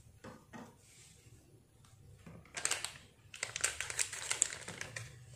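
A 3-in-1 coffee sachet with milk and sugar is torn open: soft rustles at first, then bursts of crinkly plastic crackling and tearing, close up and with no talking.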